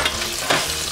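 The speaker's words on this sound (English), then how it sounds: "Hear that sizzle?" Cherry tomatoes and garlic sizzle steadily in a hot frying pan, close and loud, with a brief stir or clatter around midway.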